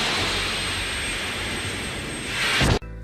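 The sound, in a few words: C-17 military jet aircraft departing Edinburgh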